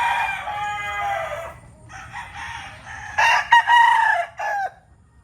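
Gamecock roosters of fighting bloodlines at a farm in Maragondon crow loudly nearby, one long crow followed by several overlapping crows from other birds, with quieter clucking between.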